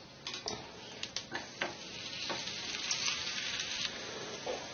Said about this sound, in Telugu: స్టవ్ మీద పెనం పెట్టుకొని నెయ్యి వేసుకుంటూ కాల్చుకోవాలి